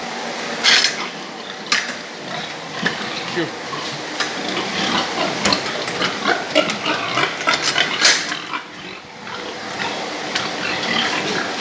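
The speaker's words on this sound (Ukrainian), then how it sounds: "Ща вам підемо покажу свиночку." A pig on a farm, among pens holding litters of piglets, gives close, irregular grunts and snuffles. Clattering and rustling come and go around it, and a voice is faintly heard now and then.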